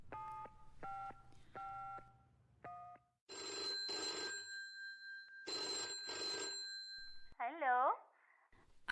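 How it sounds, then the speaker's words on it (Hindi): A telephone call being placed: short dialing tones, then repeated bursts of a ringing telephone bell, ending in a warbling tone, with voices talking partly over it. "ठीक है, मैं ही उसे फोन करती हूँ"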